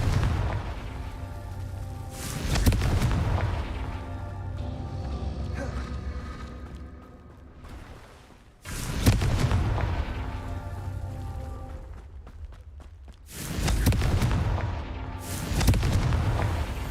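Confringo fire spell explosions in the video game Hogwarts Legacy: three heavy, rumbling blasts a few seconds apart, each with a sharp onset and long roaring decay, over a low game ambience.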